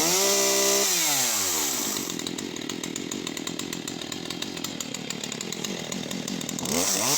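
A Stihl MS181C chainsaw fires up and runs, its small two-stroke engine revving sharply, then settling into a buzzing, slightly uneven idle before revving up again at the end, close and loud.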